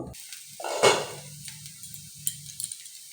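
A lid lifts off a pan of oats frying over a low-medium flame, giving one bright metallic clatter near the start, after which a soft steady sizzle carries on underneath, with a few small clinks later.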